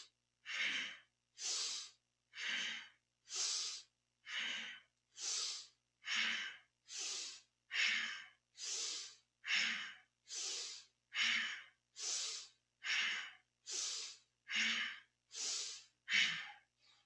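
Forceful rhythmic breaths through the nose during a kundalini yoga spinal twist, about eighteen even inhale-exhale bursts at a steady pace, close and alone without talk.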